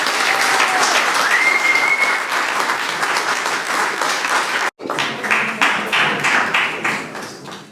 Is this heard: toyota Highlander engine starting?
no